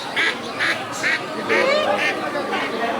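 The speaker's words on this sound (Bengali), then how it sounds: "এগুলো হাঁস" Ducks quack at a poultry market, giving a string of nasal calls in a loose rhythm of about two per second over a steady murmur of background crowd noise.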